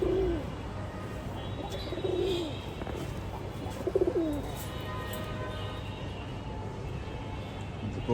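Pigeons coo at a loft, with several soft rolling coos spaced a couple of seconds apart over quiet background noise and faint chirps.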